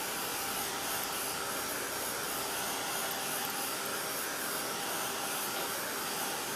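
A heat tool blows steadily and loudly throughout, a constant broadband whoosh drying a metallic stain on a paper tag during a Wendy Vecchi stamping session.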